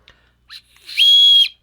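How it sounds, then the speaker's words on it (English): A single sharp, shrill blast from a survival whistle lasting about half a second, loud and close, preceded by a couple of faint breathy puffs. "Yep, it's a whistle. I just tried it."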